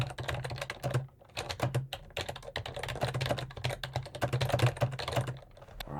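Fingers type on a computer keyboard at close range, a dense, steady stream of crisp key clicks and clacks with a brief pause after the first second, no voices present.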